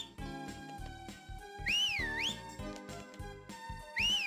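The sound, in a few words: character whistling in Harvest Moon: Magical Melody video game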